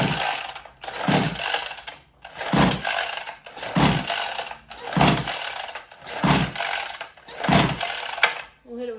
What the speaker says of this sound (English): let's turn on the key and see if it'll fire up.